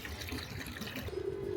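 Water flows out through a plant-root filter in a steady, faint trickle, close and continuous with a soft splashing wash and no voices.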